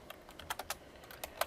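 Quick, uneven keystrokes on a computer keyboard, about a dozen light clicks in bursts, close and clear with no talking.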